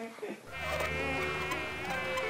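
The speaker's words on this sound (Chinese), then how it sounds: "蚊子怎么那么多啦？ 好烦哦。" Mosquitoes whine in a park, a thin, high buzzing that swells in after a brief quiet and then hangs steady and close.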